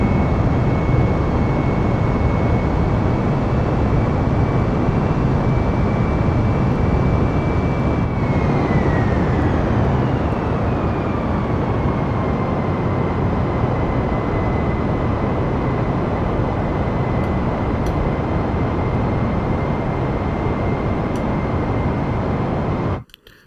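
Airplane engine in a flight simulator video game, a loud continuous drone with a steady whine that drops in pitch partway through, then cuts off abruptly at the end.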